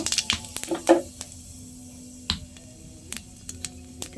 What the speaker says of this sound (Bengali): এবার আমি এখানে জিরে ফোড়ন দিয়ে দিব